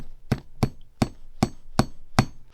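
Hammer driving small sawtooth hangers into the top of a homemade acoustic panel, six sharp, close, evenly spaced knocks in quick steady rhythm.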